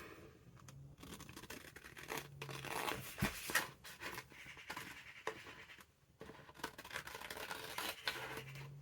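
Paper being cut with scissors while trimming around a junk journal piece, a run of quiet crisp snips and rustling paper that keep going throughout, with faint birdsong in the background.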